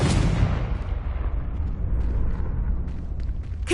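Confringo explosive spell blast in Hogwarts Legacy, a loud booming burst at the start that decays into a long rumbling tail, with another sharp hit at the end.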